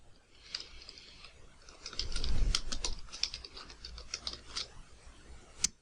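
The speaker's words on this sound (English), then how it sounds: "you can easily just type the information in on the fly" Quick, light clicking of keys as information is typed on a computer keyboard, a fast irregular patter at close range with a soft low thump midway, no voices.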